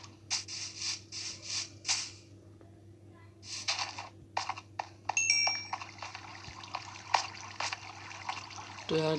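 Water trickles and flows in a Minecraft cave in short intermittent bursts over a low steady hum, with gaps of near quiet between them.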